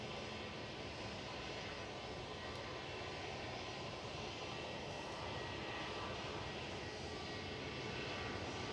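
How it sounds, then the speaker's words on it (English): A Pilatus PC-12 passes at Manchester Airport, heard as a faint, steady engine roar that holds evenly throughout without any clear peak. "There goes that little PC-12."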